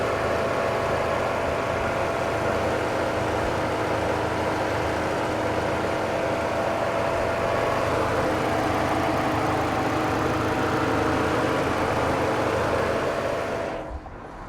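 A Saturn Sky roadster's engine idles steadily, a close, loud and even rumble with a constant hum that holds for the full length before dropping off abruptly at the very end; no one speaks.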